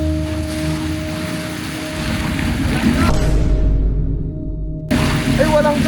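Strong sea waves and wind roar around a stalled speedboat out at sea at night, a continuous loud rushing wash with hull and water noise, briefly dropping out partway before resuming.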